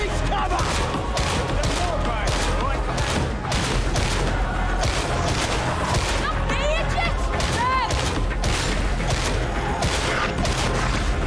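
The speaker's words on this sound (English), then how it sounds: "it sounds powerful somehow, even though it's just a little laser sound" A laser gun in Warhammer 40K Darktide fires in rapid, steady bursts of short zapping shots, loud and continuous over dense combat noise, with chirping sweeps.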